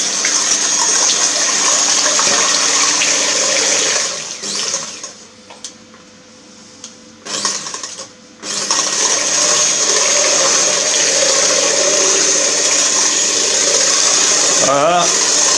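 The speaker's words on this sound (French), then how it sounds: "on prend le fouet, puis et on monte." An electric whisk whips a mixture seasoned with a pinch of salt for a Corsican merzapani: a loud, steady motor whir runs continuously, drops away for a few seconds midway, then resumes just as strongly.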